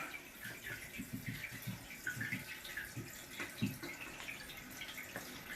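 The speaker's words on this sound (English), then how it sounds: "Now we're gonna turn the water back on." A toilet tank refills after the water supply is turned back on, giving a faint, steady hiss of running water with soft gurgling pulses and no voices.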